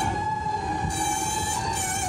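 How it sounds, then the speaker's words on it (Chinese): An escalator at a crowded National Day gala venue giving off a steady, low, grinding, horn-like mechanical hum with a sustained tonal drone, loud and unbroken throughout. "里面的手扶梯也一样发出了这个机器摩擦的低鸣的喇叭声"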